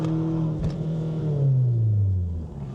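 A Škoda Fabia 1.9 PD diesel, a 350hp build, revs hard to warm its tyres. It gives one close, sustained engine roar that swells, then sweeps down in pitch and fades.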